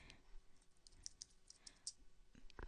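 Quiet typing on a computer keyboard, a quick irregular run of light clicking keystrokes up close, with one louder tap near the end.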